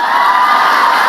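A church congregation claps and cheers together in a steady, dense wash of applause and voices that holds at full strength from start to finish, with no single speaker standing out.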